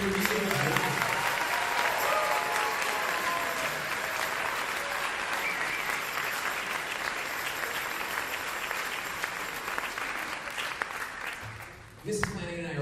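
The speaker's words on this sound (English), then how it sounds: "Can we give our beginning band students another round of applause for starting their music?" Sustained audience applause for beginning band students at a school district fall band concert, a dense steady wash of many hands clapping that carries on for about twelve seconds before cutting off abruptly, with faint voices mixed in underneath.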